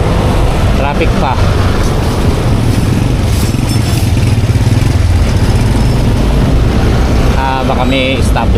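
Loud road traffic in the Philippines, with engines of motorcycles and cars idling and revving nearby under continuous close talking.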